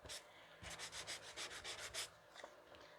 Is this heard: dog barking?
no